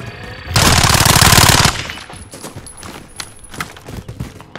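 Hostile automatic gunfire in Call of Duty Warzone: a loud, rapid burst of machine-gun fire lasting about a second, followed by scattered fainter shots and game sounds.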